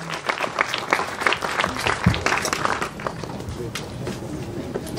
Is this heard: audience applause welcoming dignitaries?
yes